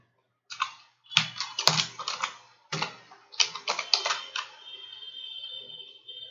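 Close, crisp typing on a computer keyboard while entering code, with irregular clusters of key clicks in short bursts and brief pauses, plus a faint steady tone near the end.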